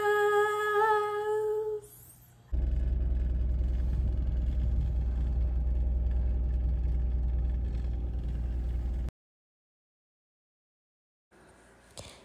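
A car driving on the way to a Spanish market, with a steady low engine rumble and road noise running loud and continuous for several seconds before cutting out, then returning faintly.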